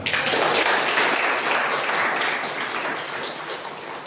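A church congregation claps together during a joyful worship service, a dense, steady wash of many hands that stays loud throughout and eases off slightly toward the end, with no voices standing out.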